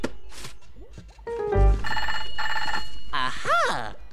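A telephone rings in a Bananas in Pyjamas children's cartoon: a short bright electronic ring, with cartoon sound effects and a rising musical sweep after it, all loud and close.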